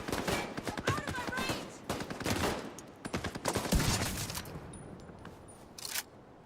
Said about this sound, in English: Those headshot sound effects, they sound so good with this.